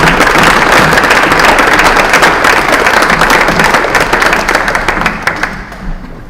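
A loud, dense round of audience applause for volunteer panelists at a community discussion on policing in Rochester, Minnesota, sustained and close before gradually thinning out and fading toward the end.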